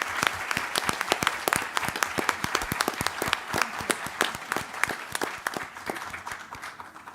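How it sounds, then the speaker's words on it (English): At a school board employee appreciation meeting, a modest group applauds to congratulate and thank an honoree, with sharp, separate handclaps in an uneven rhythm that gradually thin out near the end. "can we give Dr. Menardez a round of applause for congratulations and one for thank you?"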